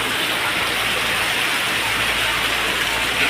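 Heavy rain pours down in Chhapi village, a dense, unbroken hiss of downpour, loud and constant throughout.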